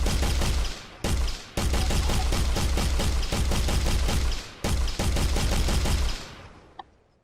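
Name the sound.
video game gunfire from first-person projectile guns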